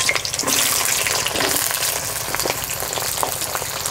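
Pointed gourd (potol) frying in oil in a pan alongside potatoes, making a dense, steady sizzle with occasional stirring scrapes, close and loud throughout with no talking.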